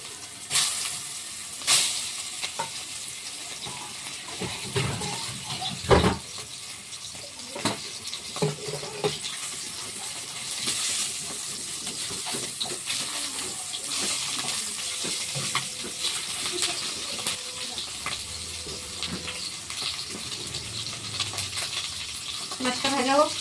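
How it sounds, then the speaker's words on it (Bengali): Fish frying in hot oil in a pan, a steady sizzle running throughout with occasional clinks and stirring knocks, close and moderately loud. "মাছটা ভাজা হোক।"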